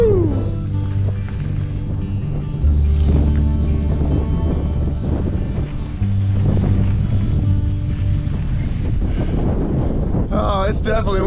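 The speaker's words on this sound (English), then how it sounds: "Oh, it's definitely windy." Strong wind buffets the microphone while someone cycles outdoors on a road near Las Cruces, New Mexico, a loud continuous rumble with gusts throughout and a voice speaking briefly near the end.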